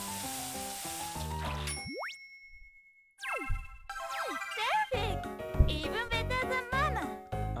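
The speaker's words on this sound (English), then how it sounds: "Fry it fast. Oh, same thing, but with oil." Food frying in oil in the Cooking Mama 2 video game: a soft sizzle under bright game music, chimes and springy boing effects, with a brief quiet gap.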